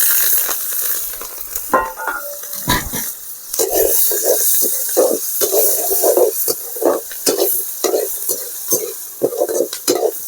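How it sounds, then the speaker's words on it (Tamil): Onions sautéing in oil with crushed fennel, cumin and black pepper, a steady sizzle broken by frequent scraping stirs of a spatula across the pan. "நல்லா வதக்கிங்க."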